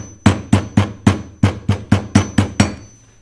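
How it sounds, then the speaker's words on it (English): A hammer setting rivets on the thick waistband of a pair of jeans, with nine sharp, close, evenly spaced strikes about a quarter second apart and no talk. "The waistband thickness is kind of disrupting the hammer a little bit."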